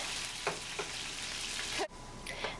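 Garlic sizzles in hot oil in a pan while fried rice is being made, a steady crackling hiss with a few brief clinks and a short sharp drop partway through.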